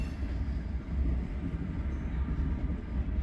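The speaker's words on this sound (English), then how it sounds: "UP is shoving cars in the Hobson Yard behind this train" A Union Pacific train shoving cars through Hobson Yard in Lincoln, Nebraska, gives off a steady low rumble of rolling cars and engine noise, fairly close and continuous.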